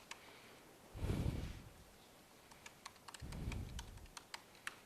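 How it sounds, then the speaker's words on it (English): Typing on a computer keyboard in a quiet room, a run of light key clicks and taps, sparse at first and then quicker, mixed with a couple of soft rustles. "So I can start typing like"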